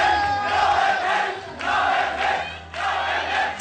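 A large concert crowd roars and cheers in loud sustained waves, swelling and dipping three times with brief lulls between surges, dense and close.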